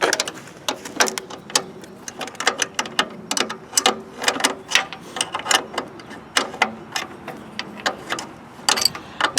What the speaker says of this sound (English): we grab 2 1/2-inch wrenches and come over to here to loosen this part of the cable